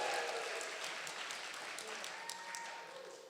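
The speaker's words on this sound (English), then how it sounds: "Give them a round of applause." Wedding guests applauding a couple at a celebration: continuous, dense clapping that sounds somewhat distant and quiet, holding steady and then slightly thinning toward the end.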